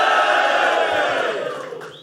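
A live audience cheers and shouts loudly for Lubo at a show, a dense wall of crowd voices that gradually tapers off.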